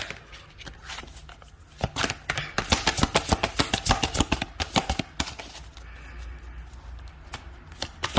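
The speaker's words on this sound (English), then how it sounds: "I'm going to shuffle one more time just for one more card." A deck of tarot cards is shuffled close by in rapid riffling bursts, a fast run of crisp slaps and flutters that builds in the middle and tapers to softer handling.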